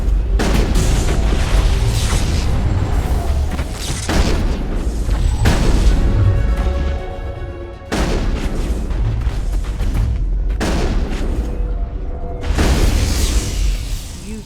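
Gunfire and heavy explosions fill a Mass Effect battle on Noveria with repeated loud booms and dense bursts of shooting in overlapping waves, loud and close throughout.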